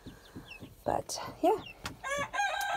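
Backyard homestead chickens, including young Silkie roosters, crow and cluck in short bursts, several crows rising over steady hen clucking while a person speaks briefly nearby.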